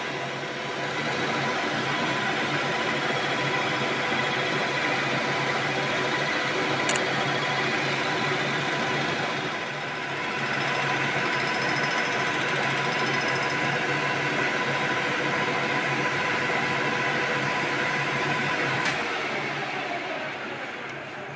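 A lathe turning a 66mm motorcycle cylinder head for squish gives a constant whining machine drone with a high tonal hum, steady for about twenty seconds with a brief dip midway and a couple of sharp ticks.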